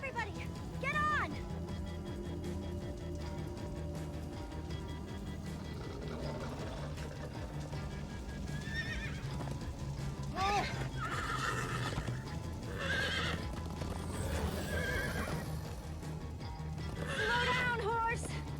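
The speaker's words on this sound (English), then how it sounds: "Slow down, horse!" Horses in Minecraft Story Mode whinny several times over a continuous rumbling game soundtrack, with hoofbeats and characters talking throughout.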